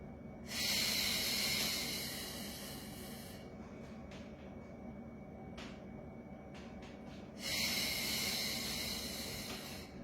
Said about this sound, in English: Exhale for 5 strong beats.